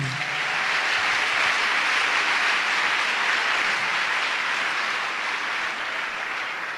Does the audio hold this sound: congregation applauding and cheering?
yes